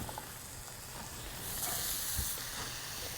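Onions hit a hot pan with miso butter and sizzle, a soft steady frying hiss that swells louder partway through and holds, close and alone without talk.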